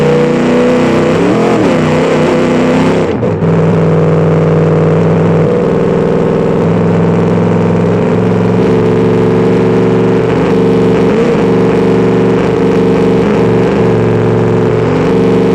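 A car engine in the BeamNG driving simulator runs loud and steady while the car drives over potholes, humming at mid pitch with small surges. A brief clunk comes early on.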